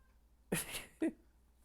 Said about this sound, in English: You are not an ornament, you are a kitty.